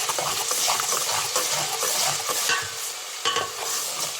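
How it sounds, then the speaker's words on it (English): Garlic and ginger frying in a pot for mutton curry, a bright crackling sizzle with stirring scrapes and a few sharp spikes, close and loud throughout. "So that is my garlic and ginger that's being added to the pot."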